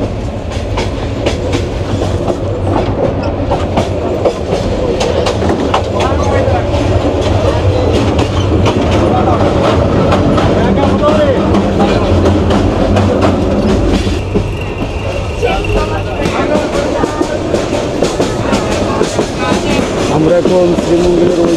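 Paharika Express running from Sylhet to Chittagong, a loud continuous rumble with rhythmic clickety-clack of wheels over rail joints throughout, close and steady.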